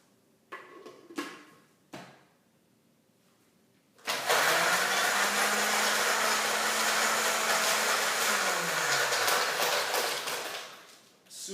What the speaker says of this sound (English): the fourth step is to blend the ice, milk, and yogurt in the blender